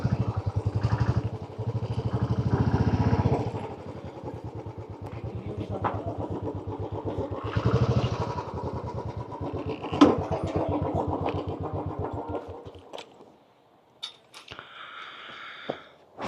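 A motorcycle parked on a long ride to a mountain resort runs steadily with a mid-pitched engine rumble, surging in loudness a few times before cutting out near the end, followed by a few faint clicks and knocks.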